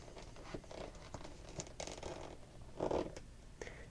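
A sheet of paper is rolled tightly around a pencil while making a paper crossbow, giving close, soft crinkling and rustling in short bursts, with one louder scrunch near the end.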